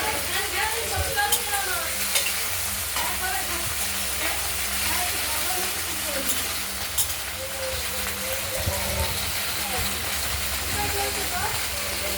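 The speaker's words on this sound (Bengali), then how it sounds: "ঢেঁড়সগুলোকে আমরা প্রথমে এই অবস্থা ভাজা করে নেব" Halved okra pieces fry in hot oil, giving a continuous, close sizzle with occasional stirring scrapes, while a voice talks faintly underneath.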